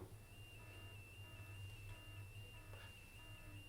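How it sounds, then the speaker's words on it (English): A faint, steady electronic beeping tone repeats in the background over a low hum, quiet and distant throughout. "There is a slight alarm sound."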